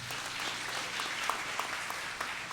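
A church congregation at a Sunday worship service claps warmly for visitors, a steady patter of many hands that continues evenly throughout.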